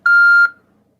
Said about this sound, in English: Please state your name after the tone,